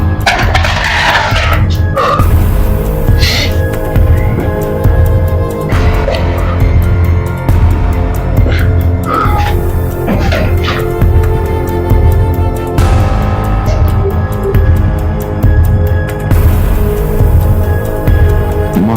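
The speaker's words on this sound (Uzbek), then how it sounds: "Mashinalar ovozi eshityapti." Distant traffic carries into an abandoned building near its basement: a steady low rumble of passing cars runs through the whole stretch, with occasional brighter swells as vehicles go by, and no voices.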